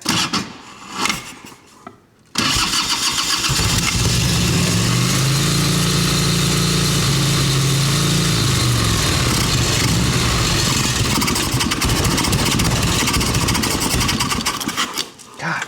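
An '89 Harley Ultra Classic engine with intake and carburetor issues cranks briefly, then catches and settles into a steady, loud idle that runs close by for a long stretch.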